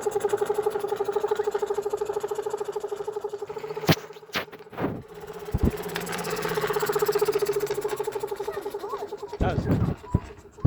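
A homemade trike powered by an engine built from a compressor motor runs with a steady, close idling drone, broken by a few sharp knocks and clatters midway; people talk nearby.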